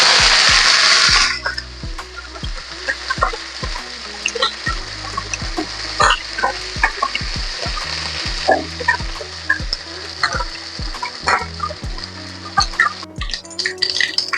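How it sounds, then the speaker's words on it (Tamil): Curry leaves go into hot oil in a tempering for a moong dal dish, a loud crackling sizzle at first that settles into steady frying with repeated sharp taps of a utensil against the pan. "இப்போ கருவேப்பிலை சேர்த்துக்கலாம்."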